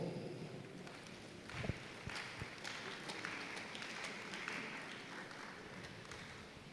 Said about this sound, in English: Your clap offering was too feeble.